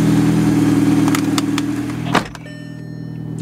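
A Volkswagen Golf GTI Mk5 engine idling steadily with a low hum, a few clicks over it, then a brief thump after which the idle settles slightly quieter.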